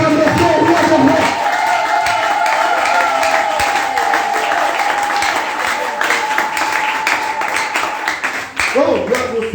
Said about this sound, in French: donnez le mot d'acclamation au roi des rois